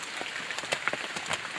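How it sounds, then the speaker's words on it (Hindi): Rain drums steadily on a plastic-sheet tent in the Amarkantak forest, a dense, close patter with no voices. "और अभी तक बारिश हो रही है।"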